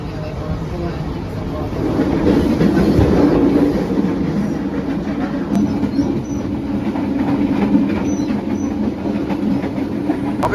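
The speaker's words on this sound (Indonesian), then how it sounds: "kereta api lokal Komuter Lain Garut telah tiba di stasiun Cimahi" The Komuter Line Garut local commuter train runs at night between stations, a steady rumbling ride from inside the carriage with rattling clatter and occasional metallic squeaks, loud and continuous throughout.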